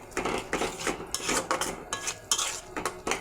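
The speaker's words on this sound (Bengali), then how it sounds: "ধনেপাতা কুচি দিয়ে আবার মশলাটা কষিয়ে নেব।" Spice paste with chopped coriander being stirred and fried in a pan for a spicy tengra fish curry, with repeated scraping and clinking of a utensil against the pan and a soft sizzle underneath, close and steady.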